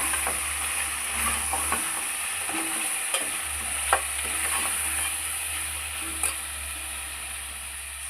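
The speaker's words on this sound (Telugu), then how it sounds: "అల్లం పేస్ట్ ఫ్రెండ్స్, వేసి బాగా కలుపుకోవాలి." Ginger paste is stirred into a simple mutton curry, with a loud continuous frying sizzle, repeated scraping strokes of a spoon, a low steady stove hum underneath, and no speech.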